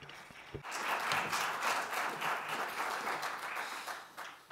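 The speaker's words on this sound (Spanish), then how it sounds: "los vamos a aplaudir" Lecture audience at an architecture talk breaks into dense, sustained applause after a brief opening sound, holding steady at moderate volume before tapering near the end.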